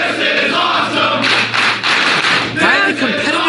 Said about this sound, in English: Crowd showing their approval.